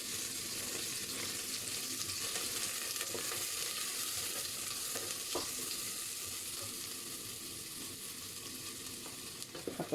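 Carrots sizzling in hot oil in a pan, a steady close crackle that runs throughout with a few small clinks and stirring scrapes, no talking.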